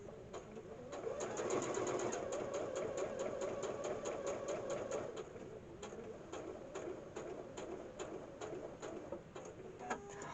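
Close by, a sewing machine stitches a zipper pocket on the inside of a bag, its fast, even mechanical chatter running strongly at first, then settling into a slower, lighter ticking rhythm without any voices.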